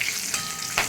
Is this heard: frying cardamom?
yes